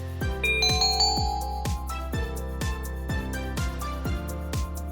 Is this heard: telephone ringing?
yes